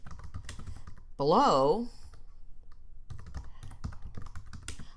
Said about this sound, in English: I could just type that in.